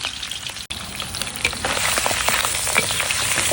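Pineapple sausage fries in a pan with a close, loud, steady sizzle and crackle. A brief clatter comes early, then the sizzle keeps building and no voice is heard.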